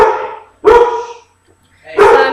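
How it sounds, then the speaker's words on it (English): Dog barking indoors, three loud close barks spaced about a second apart with a short pause before the last. "my dog is going ballistic!"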